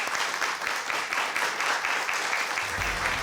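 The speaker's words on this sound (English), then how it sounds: "A round of applause for everybody." A crowd at a high school academic quiz competition claps steadily and densely throughout, a sustained round of applause with no voices standing out.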